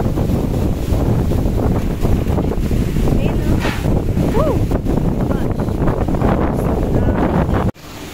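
Strong wind on a Boracay beach buffets the microphone in a constant loud roar, with faint surf beneath and a brief voice partway through.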